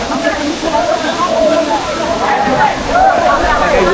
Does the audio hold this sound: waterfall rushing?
yes